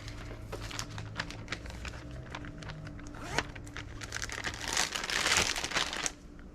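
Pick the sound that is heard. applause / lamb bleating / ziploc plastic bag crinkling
ziploc plastic bag crinkling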